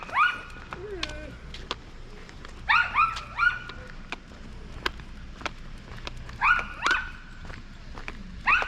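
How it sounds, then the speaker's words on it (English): A small dog yaps in repeated short, high bursts from a little distance outdoors on a walk by water, with whimpers in between and footsteps and a low background hum underneath. "Got a little yapper. And little yapping dogs."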